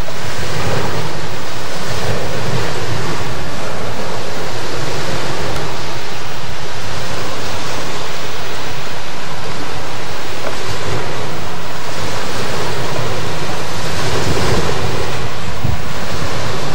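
Strong seaside wind on the coast at Kara-Dag near Planerskoye roars loudly and continuously against the microphone, mixed with the wash of surf, and no one speaks over it.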